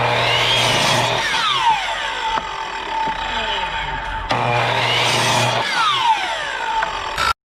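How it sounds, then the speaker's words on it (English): A power tool whines steadily while cutting points into wooden fence pickets, two long loud passes with the motor pitch dropping and sweeping as it bites through the wood, then stopping abruptly. "we're gonna put the points on the pickets"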